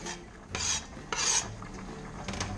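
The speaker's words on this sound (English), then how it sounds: "And we're going to take all that delicious meat that we just cut up, put it back in the skillet." Chopped meat goes back into a skillet for a breakfast pasta, heard as two short raspy scraping pushes of a utensil across the pan, close by, followed by a few softer scrapes over a faint background.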